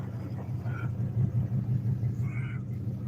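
A car engine gives a low, steady rumble as the vehicle pulls away on a road, close by and pulsing slightly.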